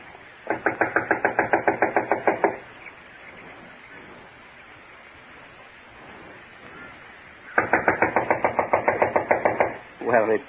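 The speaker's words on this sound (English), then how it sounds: "I'll knock." Knocking on the door of a run-down, long-unoccupied house: two rapid bursts of about a dozen sharp, loud raps each, separated by a quiet pause, in an old radio mystery drama.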